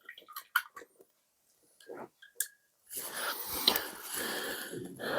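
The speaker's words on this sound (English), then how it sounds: "And then we can wash out the brush once again." A paintbrush is swished and rinsed in water while making MDF terrain, a steady close sloshing that follows some scattered soft handling noises.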